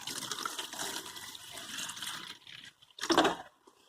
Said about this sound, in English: first I'm going to just put some water into here